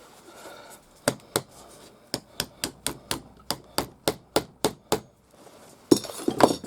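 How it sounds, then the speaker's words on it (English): A hammer taps a metal chape onto a leather scabbard in a run of about seventeen sharp, close strikes at a quick, slightly irregular pace, followed by a short cluster of clinking knocks. "keep going round, hammering it about until it starts to sit in the right place."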